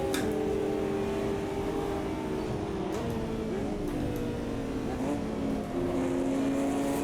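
GT4 race cars, including a McLaren GT4, passing at the Nürburgring GP circuit in the AMS 2 racing game: steady, loud engine drone with shifting pitch as several cars rush by close together.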